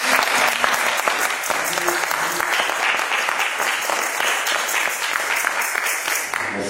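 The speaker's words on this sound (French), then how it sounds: "Nous allons l'accueillir avec des acclamations." A church congregation applauds and cheers to welcome a visiting pastor from Lubumbashi, Congo, a dense, loud, continuous roar of many hands clapping that fills the space from start to finish.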